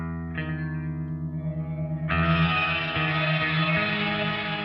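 An EarthQuaker Devices Zoar pedal plays a guitar through an octave-up delay, sustained chords swelling into a bright, shimmering, reverberant wash that grows louder midway and rings on without talking.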